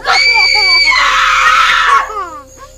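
A woman lets out one loud, piercing scream that holds for about two seconds, then breaks off abruptly, leaving a brief quieter tail.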